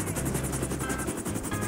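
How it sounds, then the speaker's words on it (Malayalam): A helicopter flies in GTA V, its rotor beating in a steady, rapid chop with a constant whine underneath, close and alone without talk. "ഹെലികോപ്റ്റർ എടുത്തിട്ട് നമ്മളിവിടെ എത്തിയിട്ടുണ്ട്"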